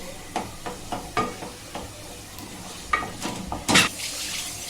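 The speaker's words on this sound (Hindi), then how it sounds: "अब ये टमाटर डालेंगे, बारीक कटा हुआ टमाटर है वो डालेंगे।" Finely chopped tomatoes dropped into onion paste frying in a pot for a mutton curry, giving a soft continuous sizzle broken by several sharp wet stirring and scraping clacks, close, with no talking.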